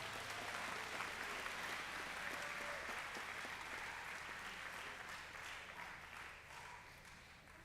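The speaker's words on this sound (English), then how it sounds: "Please give them a nice little round of applause." A crowd at a Boys' State contestant event applauds the judges with steady, dense clapping that holds fairly loud for several seconds, then slowly thins and fades near the end.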